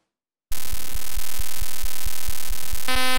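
A synthesizer pulse waveform starts abruptly after a short silence as a loud, buzzy, harmonic-rich tone with a steady throbbing pulse beneath it, its timbre brightening near the end.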